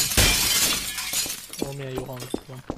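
A beer bottle smashes in a video game with one sharp burst of breaking glass near the start, then someone talks over the game.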